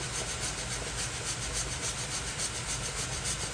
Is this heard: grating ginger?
yes